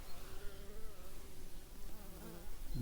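Honeybees flying around a hive on a warm November morning, a continuous soft buzzing drone of many insects close by, steady and faint with no voices.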